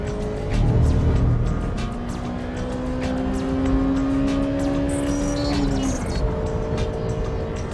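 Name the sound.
Honda Civic Type R engine at full throttle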